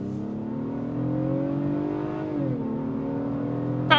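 A 2026 Honda Passport Trailsport pulls away from a stop, its engine rising steadily in a smooth, moderate hum from inside the cabin, with a brief dip around a gear change before climbing again.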